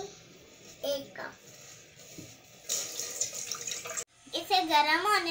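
Water runs from a tap and splashes into a pot being filled for instant Kashmiri tea, a steady close stream with louder gushes in the second half, with brief kitchen clatter.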